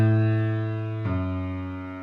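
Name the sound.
two low piano notes, a minor third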